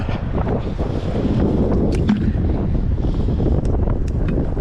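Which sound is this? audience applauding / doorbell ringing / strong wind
strong wind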